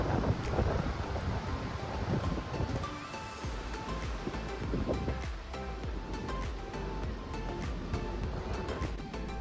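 Churning wake waves thrown up by the cruise ship Icon of the Seas, a steady broadband rush of surf and sea spray mixed with wind buffeting, loud and continuous throughout with no talk.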